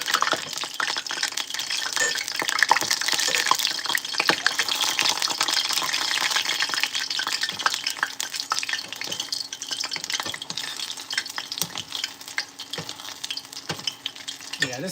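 Seitan pieces fry in a small, crowded pan, giving a steady, fairly loud crackling sizzle with scattered pops and faint scraping throughout, with no talk.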